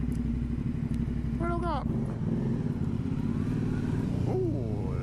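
Loud, steady engine drone of an Aprilia Dorsoduro 900 motorcycle idling or rolling slowly through a car park in the rain, echoing continuously while a rider speaks briefly over it.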